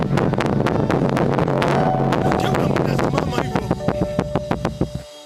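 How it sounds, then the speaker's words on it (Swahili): A church congregation at a Pentecostal anniversary service claps for Jesus, a loud, fast burst of many hands that slows into distinct, scattered claps before stopping. "Mpigie Yesu makofi."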